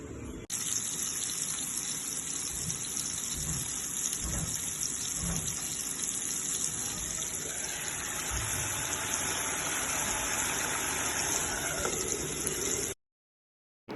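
Tap water runs steadily while cleaned fish is washed under it, a loud continuous gushing stream with faint clatter at times, ending abruptly near the finish.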